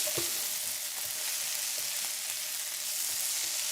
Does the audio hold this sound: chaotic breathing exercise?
no